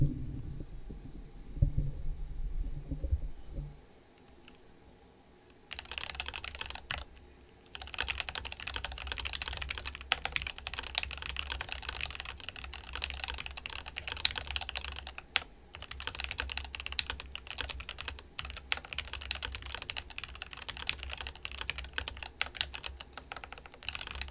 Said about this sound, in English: One more typing test.